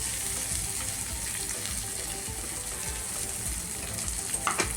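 Chopped onion fries in a pan for a traditional village-style spicy brinjal dish, a continuous close sizzle with faint crackles and a few louder spatula clinks near the end.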